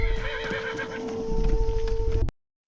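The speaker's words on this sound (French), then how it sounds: "Un cheval!" A horse whinnies loudly, joined by steady clip-clopping hooves, as in the pursuit of a stagecoach during the royal flight to Varennes in French history; the sound is close, continuous and carries no voices before cutting off abruptly.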